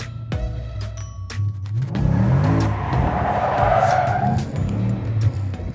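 A car being drifted under instruction from a pro driver: engine revving hard, then tires squealing and skidding in a long, loud, close slide with the motor droning underneath.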